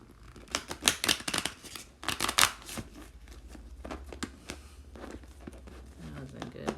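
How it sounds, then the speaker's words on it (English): Tarot cards being shuffled by hand, a string of crisp riffling bursts early on, then softer intermittent card flicks, close and moderately loud, with a quiet room hum underneath. "I don't know if y'all want to see me shuffle."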